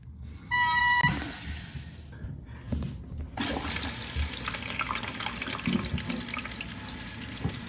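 Water rushes into a newly installed toilet's tank as it fills, a steady close hiss and splash that starts after a brief clunk and continues evenly to the end.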